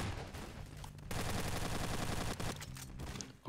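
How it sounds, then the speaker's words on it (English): Rapid continuous burst from a spinning rotary gun in Garry's Mod, loud and dense machine-gun fire sustained for most of the stretch with a brief break near the end, no talk over it. "And when it's rotating, we can fire it."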